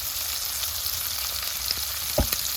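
Garlic shrimp frying in oil in a pan, a steady close sizzle with a few soft clinks and stirring scrapes near the end.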